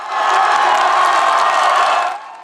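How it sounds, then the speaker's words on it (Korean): A baseball crowd of NC Dinos fans roars and cheers after a home run by Park Seong-min: one loud, continuous swell of cheering that lasts about two seconds and then drops off. "NC 유니폼을 입은 박성민 선수의 홈런포에 환호성이 터져나옵니다"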